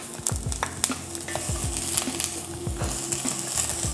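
Spring onion, ginger and garlic fry in a little oil for an Indian curry, a steady close sizzle broken by repeated scraping and clinking of a utensil stirring against the pan.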